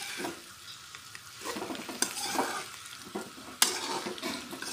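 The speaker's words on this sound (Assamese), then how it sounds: "ধুনীয়াকৈ লৰাম, এইখিনি গোটেইখিনি ভালদৰে মিহলাই দিম।" Jackfruit and fried potatoes are stirred in a pan, with a faint steady sizzle and irregular spatula scrapes and clinks, including two sharp knocks against the pan.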